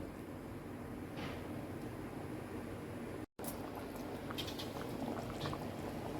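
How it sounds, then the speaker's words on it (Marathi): A pot of black pea curry simmers at a gentle boil, its soft, steady bubbling and faint liquid hiss heard up close. The sound cuts out briefly midway, then the quiet bubbling resumes. "हे थोडंसं आपण एक उकळे येऊन देऊया"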